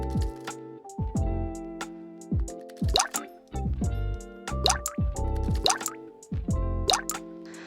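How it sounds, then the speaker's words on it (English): Yolks and whites from eggs are separated into bowls with close, wet drips and plops. Sharp clicks and small splashes come in an irregular series, with no talking. "First, we separate the yolks and whites from 5 eggs."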